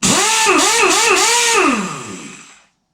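An impact wrench of the kind used to remove car lug nuts gives a single loud, close burst of whirring, its pitch wavering up and down before winding down and fading into silence.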